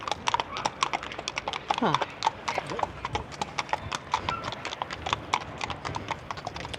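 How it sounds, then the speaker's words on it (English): Steady clip-clop of police horse hooves on pavement at a beach in Puerto Madryn, Argentina, a brisk repeating rhythm close by, with a brief whinny and a short spoken word early on. "Nice way to patrol the beach on horseback."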